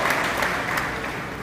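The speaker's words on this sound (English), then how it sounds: "So give her a loud round of applause." Brief, dense applause from an audience at a police force anniversary award ceremony, steady clapping sustained at moderate volume for just over a second.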